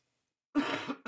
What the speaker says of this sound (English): Excuse me for the cough there.